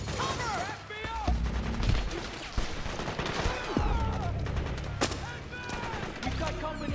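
Sustained gunfire from Metal Gear Solid 4: Guns of the Patriots, with dense overlapping bursts of automatic rifle fire and sharp individual shots in a loud combat scene, mixed with shouted voices.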